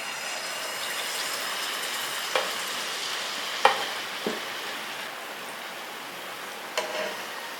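Appam batter poured into hot oil in a pan fries with a steady soft sizzle, broken by a few sharp ladle taps and clicks, with no voices.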